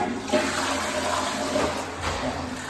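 An apartment bathroom toilet flushes, a steady rushing gurgle of water filling and draining the bowl heard up close, with no one talking.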